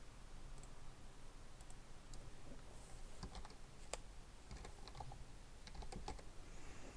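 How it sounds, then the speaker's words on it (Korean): Someone types text on a computer keyboard while working in Photoshop, producing light, close clicking keystrokes in small irregular bursts over a steady background hiss. "여기 안에 글씨를 쳐보겠습니다."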